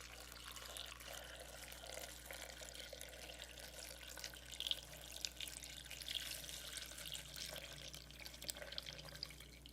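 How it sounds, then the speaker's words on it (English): Warm lemony water pours into a blender holding mangoes, a steady close liquid splash and trickle with faint drips, quiet and alone with no talking. "You're going to pour in your warm lemony water, but be careful."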